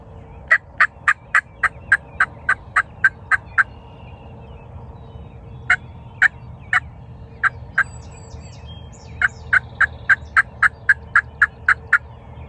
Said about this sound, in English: There's turkeys gobbling